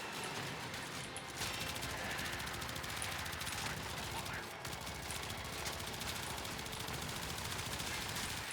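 Kuva Twin Stubbas submachine pistols fire in Warframe during a fight against the Acolyte, a dense, continuous rattle of automatic gunfire running almost unbroken over a busy game soundscape with a brief pause midway.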